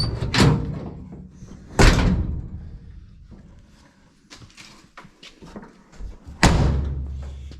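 Rear door of a C30 Squarebody truck, lacking its door handle and door panel, being shut, with three heavy metallic slams spaced a few seconds apart and fainter rattles and knocks between them.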